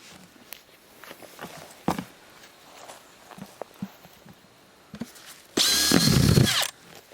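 A power drill bores a hole in wood while building an outhouse, cutting in with a loud, steady whir near the end after scattered knocks and footsteps on the work site.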